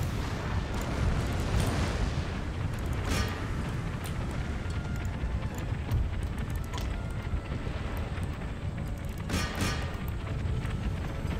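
Cannon fire in the Empire: Total War video game booms and rumbles amid a dense, low battlefield roar, with several muffled blasts standing out at intervals over a continuous wind-like background.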